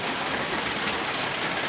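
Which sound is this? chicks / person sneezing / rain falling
rain falling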